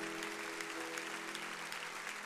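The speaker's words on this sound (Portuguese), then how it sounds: "Vamos aplaudir esses irmãos que estão vindo" Applause from a church congregation welcoming people who come forward during a service, a steady dense clapping that fills the room with organ or keyboard tones held underneath.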